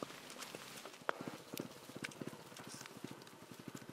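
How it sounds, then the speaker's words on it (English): Horses loaded with fresh-picked marijuana plod home on a farm in Colombia. Their hooves clip-clop in a steady, fairly faint rhythm with many overlapping steps. "where horses plod home, weighed down with fresh-picked marijuana."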